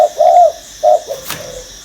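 A spotted dove coos close by in a few soft, deep hoots, pausing between phrases, followed by a brief rustle.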